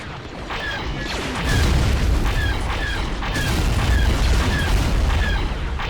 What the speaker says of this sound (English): Whoa, direct hits here on the center position.